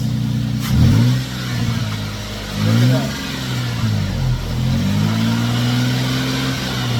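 A car engine revved in several short bursts after a fan clutch replacement, idle rising and falling between blips, close and fairly loud, with a person briefly speaking.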